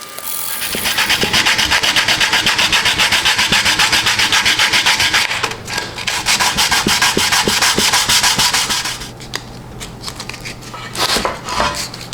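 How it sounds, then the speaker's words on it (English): Continuous close sanding on the bodywork of a vintage Chevrolet-themed coat and hat rack, a steady rasping scrub with rhythmic back-and-forth strokes, briefly pausing near the middle, then easing off into lighter, intermittent rubbing toward the end. "this is going to be fun to sand"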